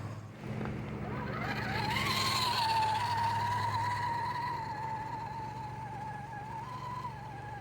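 An RC crawler truck on cut RGT tires climbing a dry hill, its electric motor whining steadily and rising slightly in pitch before holding level, fairly quiet and close, with no talking.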